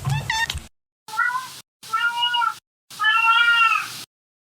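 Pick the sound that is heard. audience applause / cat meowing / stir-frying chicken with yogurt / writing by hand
cat meowing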